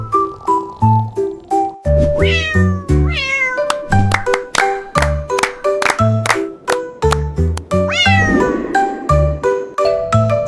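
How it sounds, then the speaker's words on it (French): Repeated cat meows, bright and close, woven through a steady tinkling musical backing with no talking. "Le chat miaula doucement"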